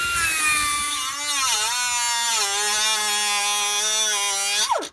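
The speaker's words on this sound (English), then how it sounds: "come up in here with our die grinder and cut a V out inside of this frame pocket to open it up" A die grinder cuts a V into the steel pocket of a vehicle frame during a leaf spring bolt repair, giving a steady high-pitched whine that dips in pitch under load and then cuts off abruptly at the end.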